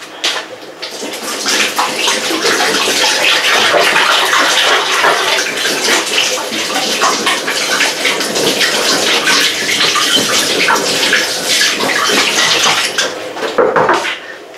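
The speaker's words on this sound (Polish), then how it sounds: "ja teraz umyję dłonie i potrzebuję mieć je mokre" Hands being washed under a running kitchen tap while making homemade seeded bread, a loud continuous splashing rush of water that runs for the whole stretch with small sloshes and clinks, no talk.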